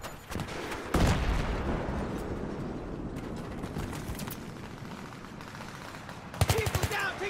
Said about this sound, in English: People down, taking fire to the left!